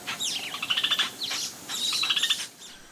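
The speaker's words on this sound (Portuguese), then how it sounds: "os passarinhos ficam cantando." Birds sing in the Amazon forest, with two clear phrases of bright chirping, trilling notes rising and falling close by, separated by a short pause, over a quiet background.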